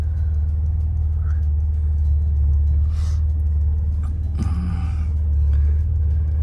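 A Citroen XM barn find, a car once stored in a barn, driving along with a steady, loud low engine drone and rumble throughout, heard from inside the cabin, with faint background noises over it.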